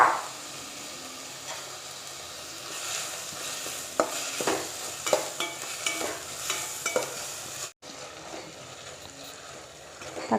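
Tomatoes sauté in a pan for a coconut milk chicken gravy, a low steady sizzle broken by repeated close scrapes and clacks of a spoon stirring, with one brief dropout partway through.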